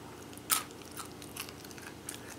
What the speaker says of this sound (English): trying to see if you can tell how crunchy these are